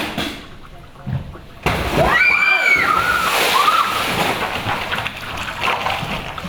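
A person belly-flopping flat into shallow water during a stunt for a Hitman shoot, a sharp smack followed by heavy splashing and sloshing, with voices and some squeaky tones over the churning water.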